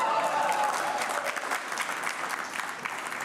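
A crowd applauds a mayor's speech in Mississauga with dense, steady clapping that fills the whole stretch and eases slightly toward the end.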